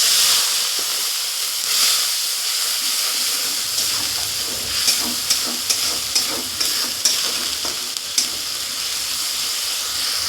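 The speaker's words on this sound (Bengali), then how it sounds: "এবার একটু জল দিয়ে কষিয়ে নেব।" A splash of water hits spice paste frying in oil, setting off a loud, close, hissing sizzle while a spoon stirs and scrapes the pan in a series of light knocks; no one speaks.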